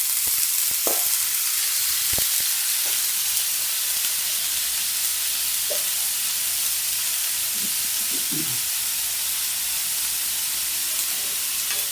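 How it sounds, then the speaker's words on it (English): Bitter gourd fries in a pan with a dense, constant hiss and sizzle, broken by a few soft stirring knocks and scrapes, heard up close with no voices. "you can actually turn the bitter gourd over. You can stir that because it won't be bitter."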